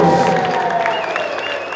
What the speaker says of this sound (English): Come on, let's give them a warm round of applause.